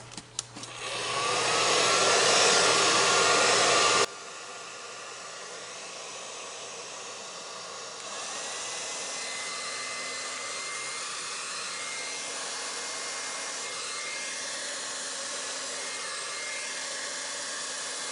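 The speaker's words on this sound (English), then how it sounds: "using the blow dryer on cool" A blow dryer on its cool setting blows onto wet acrylic paint in a loud steady rush that drops to a softer hum after about four seconds and keeps running to the end with no voices.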